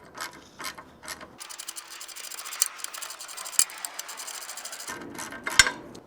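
A 12mm wrench works loose an exhaust bracket bolt with a lock nut on a Triumph Tiger 800 motorcycle, giving close, quick ratcheting clicks and metallic scraping in short bursts with no talking.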